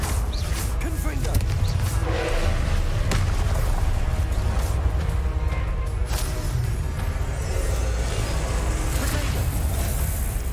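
Confringo fire-blast spells from Hogwarts Legacy go off among continuous dense booming combat noise. A voice calls out over the steady din.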